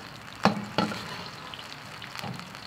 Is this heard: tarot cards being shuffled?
no